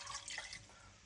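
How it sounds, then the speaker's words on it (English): Water is poured into a pot of brisket for a simple stock, making a short, soft splashing trickle that fades within about a second, close by and quiet. "Add 3 cups of water."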